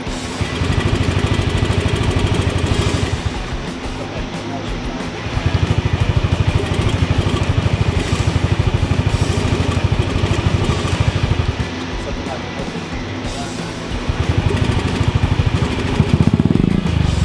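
A swapped GET engine running in a Nash Metropolitan car, a steady close, loud mechanical chugging with a rapid pulsing rhythm that swells and eases in level, with no talk over it.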